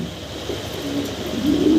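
Soft, low Damascene pigeon cooing rises and falls in short phrases, growing a little louder toward the end, with faint background hiss and no talking.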